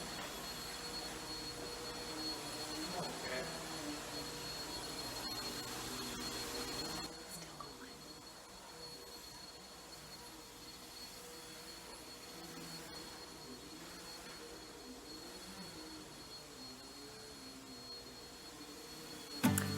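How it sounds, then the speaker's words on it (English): A vacuum cleaner drones in a room at a steady whine, slightly fainter after about seven seconds, with a sharp bump right at the end. "He was vacuuming,"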